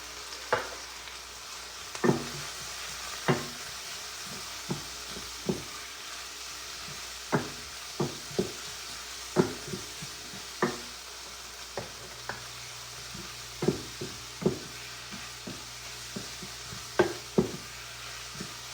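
Garlic paste fries in a pan over low heat with a quiet steady sizzle, broken by repeated sharp knocks and scrapes of a spoon stirring at irregular intervals.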